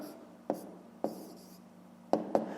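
A pen writes a numerical answer on paper in a math exercise, a few short, sharp scratching strokes and taps spaced unevenly, quiet and close.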